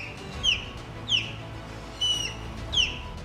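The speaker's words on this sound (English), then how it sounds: "These magnificent birds communicate through a series of sharp whistles, known as cheep or uke sounds." Osprey giving sharp whistling calls, four clear high chirps spaced evenly about every second or so, each brief and rising, over a quiet outdoor background.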